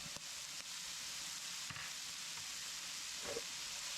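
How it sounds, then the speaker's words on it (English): Garlic cooking over gentle heat in a frying pan with sausage, green peppers, mushrooms and onions, a soft steady hiss of sizzling with a couple of faint clinks, quiet and continuous. "Go ahead and throw in our garlic."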